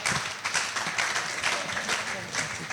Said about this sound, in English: Can we clap for ourselves? Can we put our hands together?